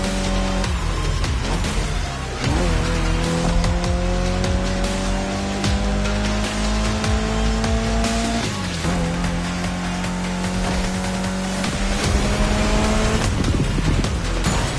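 A Mitsubishi Lancer Evo X in The Crew Motorfest roars hard through gear changes, its engine pitch climbing then dropping at each shift, with tire squeal over a steady, loud, close drive.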